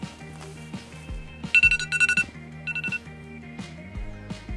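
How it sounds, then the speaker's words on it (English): An alarm going off inside a camper van during wiring work, a bright electronic melody of repeated beeping tones in short clustered bursts over a low rhythmic backing, loud and close with no talking. "That's my alarm."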